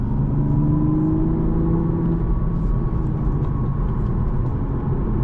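Heard from inside the cabin, a 2024 Toyota GR Supra 3.0 with a six-speed manual drones steadily under load, its engine note rising with revs in a smooth continuous pull, loud and close with road rumble beneath.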